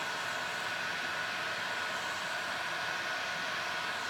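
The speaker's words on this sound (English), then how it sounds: "And I keep my heat gun low so it moves, but not low enough to burn." A steady, soft blowing hiss from a heat gun passing over resin geode coasters, held low and constant for a few seconds with no voices.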